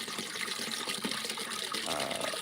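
Leftover water from a one-gallon chicken brooder waterer is poured out in a steady splashing gush, close and moderately quiet.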